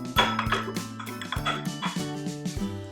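Scoops of plant-based oatmeal chocolate chip cookie dough are dropped onto a baking tray, and each drop brings a ringing metallic clank from the scoop and tray, several of them close together.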